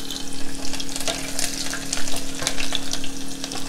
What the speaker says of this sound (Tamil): அடுத்து 5-6 பல் பூண்டை சின்ன சின்னதாக கட் பண்ணி எடுத்திருக்கேன்